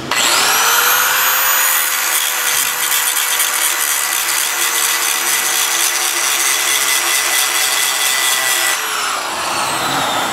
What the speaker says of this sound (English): I'm going to grind it.